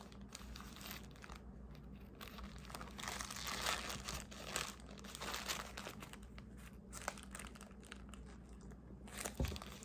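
Clear plastic wrapping crinkles and rustles around a tuna salad sandwich as it is peeled open, a soft, continuous close crackle at low volume.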